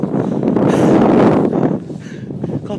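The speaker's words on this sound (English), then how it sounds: "it's actually really cold and windy" Wind gusting across a microphone on a cold riverside walk along the Hebburn riverside, a steady loud broadband roar that swells and then eases slightly, with faint talk underneath.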